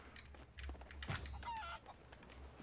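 Chickens in the pirate video game Sea of Thieves give a few short clucks and squawks over a steady low hum of game ambience, with no talk.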